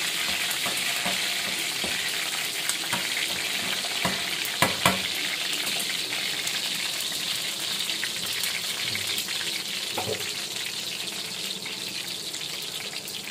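Garlic, ginger and curry leaves frying in hot oil for a tadka in a home kitchen, a steady close sizzle with occasional scraping stir clicks, and no talking.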